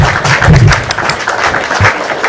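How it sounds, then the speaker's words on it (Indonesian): An audience claps at an Indonesian talk show, a dense patter of applause with some voices and low thuds mixed in, fairly loud and close throughout. "Oke, tepuk tangan."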